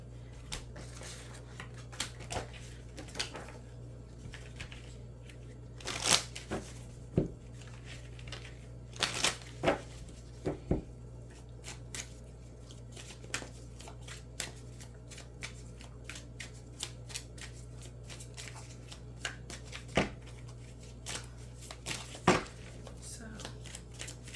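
A Cosmic Tarot deck is shuffled by hand in repeated bursts of crisp riffling and card slaps, close and fairly quiet, separated by short pauses, with occasional faint talk between shuffles.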